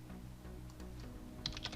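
Soft clicks from a computer keyboard come in a brief irregular burst over a steady low hum while someone works in Revit design software.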